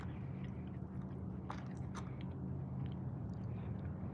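Someone chews crunchy Doritos chips close up, a steady muffled crunching and mashing with a few sharper bites standing out over a low background hum.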